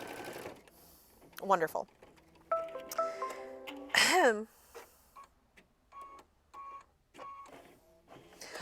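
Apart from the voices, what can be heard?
embroidery machine stitching fabric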